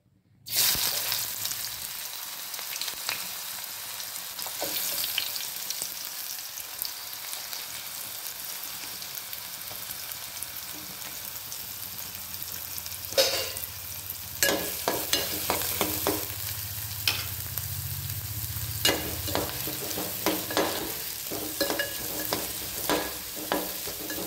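Onion and tomato frying in oil in a pan, a steady broadband sizzle under brief stirring clatters, with a fuller frying hiss building midway and sharper scraping taps toward the end; no one speaks.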